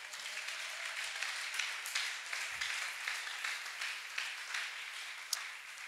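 A church congregation applauds in a steady patter of clapping that sounds distant and fairly faint, with a few sharper claps standing out.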